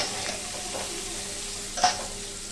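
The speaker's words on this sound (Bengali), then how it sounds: "আর একটু লঙ্কা গুঁড়ো দিয়ে ভালো করে এটাকে ভেজে তুলে নেব" Potatoes fry in hot oil with salt, turmeric and chilli powder, giving a steady close sizzle with a brief louder stir-scrape near the end.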